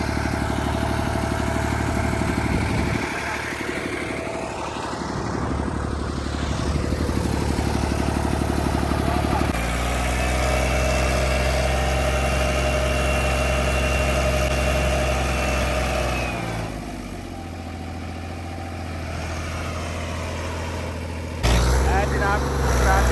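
Two tractor engines run with a steady, loud, low rumble while pulling a trolley stuck in mud after rain in a village, shifting in pitch as they strain, with someone talking over the noise.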